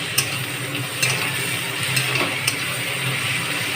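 Food being stirred in a cooking pan gives a steady soft sizzle with a few sharp scrapes and clicks of the utensil against the pan at irregular moments.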